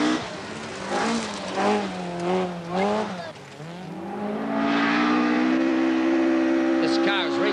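A 1985 rallysprint car in Ashley Forest, recently reshelled and rebuilt, revs hard through several rising and falling gear changes, then settles into a loud sustained engine drone close by.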